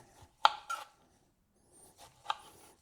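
A knife cutting a lemon into wedges on a board, a few sharp isolated chops with quiet gaps between them.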